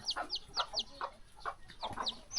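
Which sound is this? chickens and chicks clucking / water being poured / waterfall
chickens and chicks clucking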